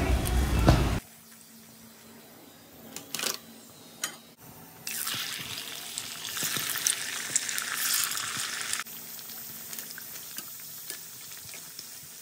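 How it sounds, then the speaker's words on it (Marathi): Sabudana fasting shapes deep-fry in hot oil, a soft bubbling sizzle that swells into a louder, denser hiss for several seconds and then eases back. A few sharp clinks and scrapes of a utensil come before the sizzle. "अशाच प्रकारे मी सगळे शेप्स हे तळून घेत आहे"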